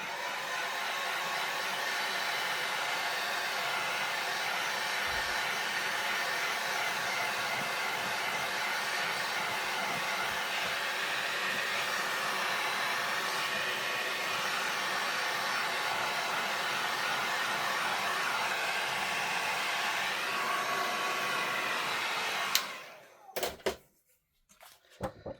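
A heat tool blows steadily and loudly for over twenty seconds while drying a cardmaking frame from behind, then cuts off abruptly, followed by a few brief clicks and handling knocks.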